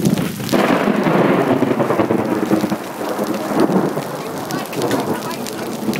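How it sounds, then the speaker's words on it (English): A hail storm pelts down steadily on a mountain, a dense pattering roar with low rumbling underneath, continuous and loud throughout. "It's hailing right now as we're riding"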